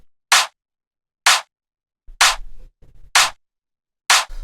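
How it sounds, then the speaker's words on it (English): A hard-hitting, fat, punchy clap sample from a house track fires five times at a steady groove-spaced rhythm, loud and crisp, with a low kick-like thump under some hits. "So this is just a nice, hard-hitting, really fat, punchy clap like this."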